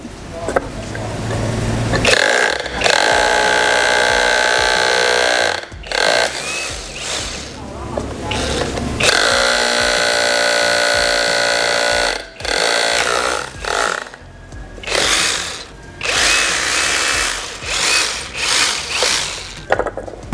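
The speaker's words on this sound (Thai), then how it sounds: "มาดูการสาธิตการเจาะปูนนะครับ" A loud Magnum 5198A 21V cordless rotary hammer drill grinds into concrete in long bursts with brief pauses between, harsh and close.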